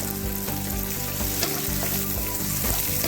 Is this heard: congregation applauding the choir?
no